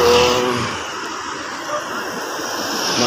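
Heavy traffic streams along a busy town road, many cars rushing past close by in a steady hiss of engines and tires, with brief swells as individual vehicles go by.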